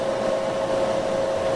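An Appion recovery pump runs on a butane extractor, a steady loud mechanical drone with a strong constant hum and broadband whir, unchanging throughout and with no talk.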